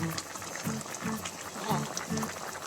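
Eggplant coconut curry simmering in a pot, its steady bubbling burble running throughout close by, with a low rhythmic clatter pulsing under it.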